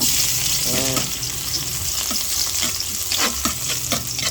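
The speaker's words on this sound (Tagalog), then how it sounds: "yan from the same wok, magigisa tayo, nagbawas lang tayo ng mantika" Garlic sautéing in oil in a wok for chicken adobo, a loud close sizzle with bursts of crackling and some stirring clatter, continuous throughout.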